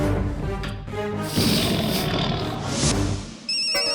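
Popatlal's phone rings in a comedy sitcom scene, a loud tonal ringtone melody filling the moment with no speech over it.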